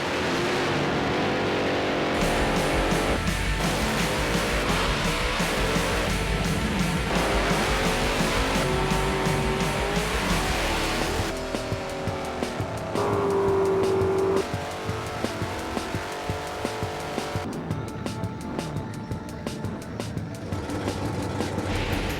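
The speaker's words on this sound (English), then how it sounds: "here at West Hampton Racetrack, and we're here to do some drag racing." Drag racing cars at Westhampton Racetrack, giving a loud, continuous roar of engines revving and climbing in pitch, with passes and gear changes blending together through the whole stretch.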